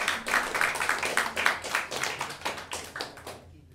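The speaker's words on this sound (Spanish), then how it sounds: "Un aplauso, por favor." A small audience claps for a guitarist at a guitar ensemble performance, a brisk, fairly close round of hand claps lasting a few seconds before quickly fading to silence.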